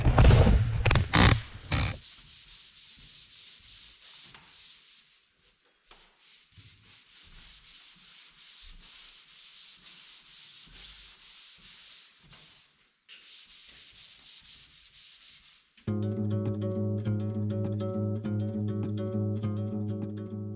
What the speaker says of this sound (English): I'm going to sand it really carefully and deal with any lasting little issues